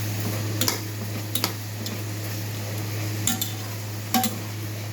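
Drumstick kurma ingredients sautéed in a pan give a steady low hiss, with a spoon scraping and clinking against the metal a few times at irregular moments, close and moderately loud.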